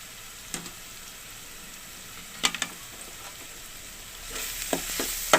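Curry ingredients frying in a pan with turmeric added, a continuous sizzle broken by several sharp spatula scrapes and stirring knocks, growing louder toward the end.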